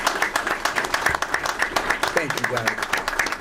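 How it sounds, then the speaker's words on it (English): An audience applauds the Morgan State Bears basketball players at a press conference, steady clapping filling the room while someone speaks briefly over it. "Give them a round of applause, please."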